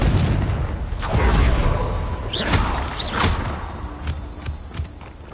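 A Confringo blasting curse explodes in a Harry Potter video game, a deep rumbling boom with whooshing debris and crackle, loud at first and slowly fading.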